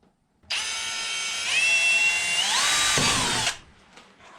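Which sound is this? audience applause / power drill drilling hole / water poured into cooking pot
power drill drilling hole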